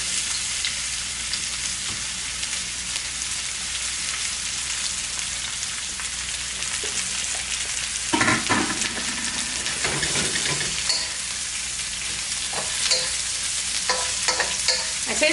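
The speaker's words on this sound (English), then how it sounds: "once I hear that sizzle, I know it's hot enough" Steady, loud sizzling of julienned onions frying in a hot pan, a continuous crackling hiss with a few sharper pops and stirring clatters partway through.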